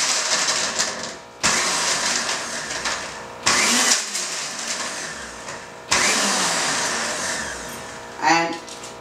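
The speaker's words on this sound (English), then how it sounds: "And it grinds to a nice paste." An InnoMix Surya mixer grinder grinds ingredients in its jar to a paste, a loud steady whirring motor in several bursts with brief pauses between, ending with a short rattling pulse.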